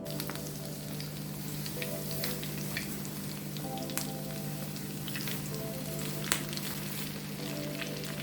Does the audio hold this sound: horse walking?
no